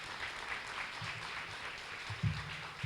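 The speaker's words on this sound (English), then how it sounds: "Let's give them another round of applause" A crowd claps steadily throughout at a high school awards day, a dense, even round of applause with a few low thumps underneath.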